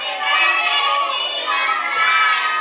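A group of children shout together in unison at a birthday party, a loud sustained chorus of voices close by with crowd cheering mixed in.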